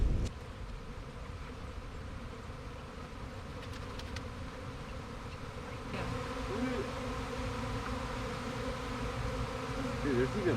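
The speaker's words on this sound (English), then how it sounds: "there's even more bees" A swarm of honey bees makes a dense, continuous buzzing that fills the air, loud and close, with a steady drone that swells slightly as more join in.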